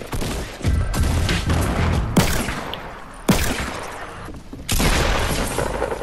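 Gunfire in Fortnite, with bursts of shots and sharp booming cracks that come in several loud clusters, close and dense, with almost no talk.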